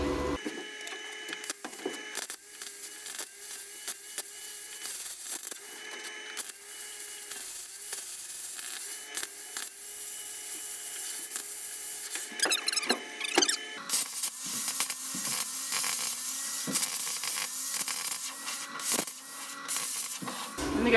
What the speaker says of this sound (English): We're just going to cut out this patch here if we can.